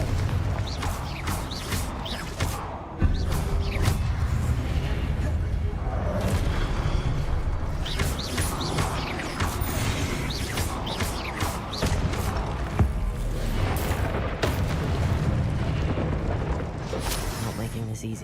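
Repeated Confringo blasting-spell explosions in Hogwarts Legacy, dense booming bursts and thuds rolling continuously over eighteen seconds amid game music and effects, with talk woven through.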